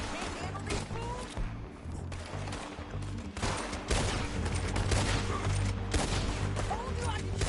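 Rapid gunfire crackles through a firefight in Red Dead Redemption, dense overlapping shots and bursts filling the scene continuously, loud and close, with a voice speaking briefly underneath.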